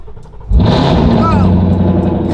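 A Whipple supercharged Mustang GT fires up from a cold start, a sudden loud bark settling into a rumbling, high-revving idle with supercharger whine, close by as someone speaks over it.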